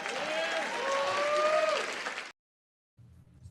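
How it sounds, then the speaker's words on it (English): Audience applause at a crowded gathering, loud and continuous for about two seconds with shouting voices mixed in, then cutting off abruptly before a faint low rumble returns. "They clapping with that."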